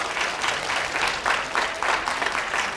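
An audience applauds at a public science lecture, a moderately loud, steady stretch of many hands clapping with gentle rises and falls, no voices over it.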